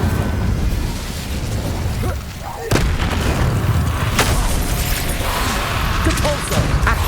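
A fire spell cast in Hogwarts Legacy gives sharp bursts and whooshing booms over a dense, continuous game soundscape, with a brief dip before a sudden loud onset near the middle.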